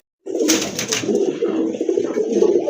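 Pigeons for sale in a Bangladeshi collection coo close and clearly, with a steady run of throaty, bubbling coos that carries on after a brief silence at the start.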